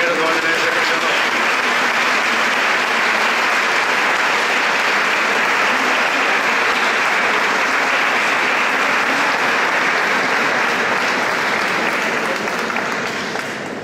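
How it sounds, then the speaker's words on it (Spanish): Sustained, loud applause from a church congregation at a solemn Mass for the feast of San Rogelio in Íllora, Granada, greeting an elected man; dense clapping holds evenly throughout with faint crowd murmur underneath. "pido un aplauso para él"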